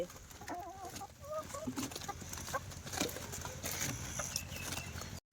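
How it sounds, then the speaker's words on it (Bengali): Several chickens cluck in short bursts, fairly close, with scattered rustling and farmyard noise around them. "এই মুরগিটা কিন্তু ভালোই ভালো হয়েছে।"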